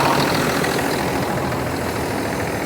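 Truck engine idling after a cold start on a snowy February morning, a loud, steady low rumble with constant broadband noise and no voices.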